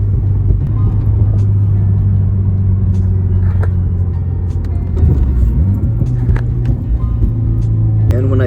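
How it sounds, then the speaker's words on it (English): Car engine and exhaust idling steadily with a deep, constant low rumble, close and loud, with faint clicks and shifts in tone over the top. "The car sounds so good."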